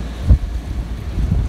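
Force 6 wind on a sailboat with the mainsail lowered, blowing at 25 knots: loud gusty buffeting against the microphone, with low rumbling thumps and surging wind noise close by.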